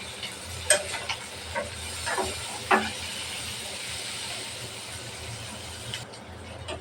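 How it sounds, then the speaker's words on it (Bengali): Shrimp and chopped onion frying in a pan, a steady close hiss and sizzle with a few stirring scrapes and clatters, and no talking. "পেঁয়াজটাকে চিংড়ি মাছের সাথে ভালোভাবে ভাইজে নেব।"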